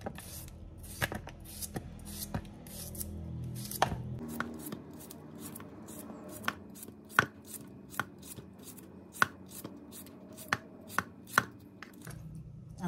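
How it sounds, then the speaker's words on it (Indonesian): A knife chops Japanese cucumber on a cutting board in a home kitchen, with a steady run of crisp, close strikes that grow more widely spaced and sharper toward the end. "Dan kita pun potong timun Jepun kita nih ya."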